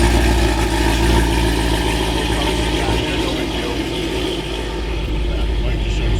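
A family car's engine runs steadily at idle, a continuous low rumbling drone with no clear start or revving, close and constant throughout.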